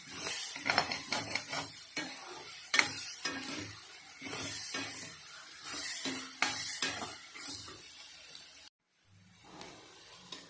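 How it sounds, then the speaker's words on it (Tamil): Onions sauté in oil in a pan. A spatula scrapes and clinks in irregular strokes over a soft sizzle, fairly quiet and close. "வெங்காயம் நல்லா வதங்கிடுச்சு"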